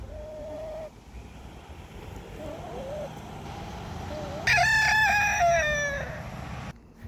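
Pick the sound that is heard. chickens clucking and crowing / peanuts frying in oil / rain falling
chickens clucking and crowing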